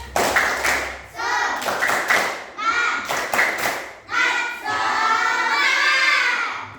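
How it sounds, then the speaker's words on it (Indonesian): A school class performs a rhythmic clapping cheer at the end of a lesson, with bursts of patterned claps and thumps broken by shouted chanting voices, then a longer run of continuous clapping. "kita tepuk semangat dulu. Tepuk semangat."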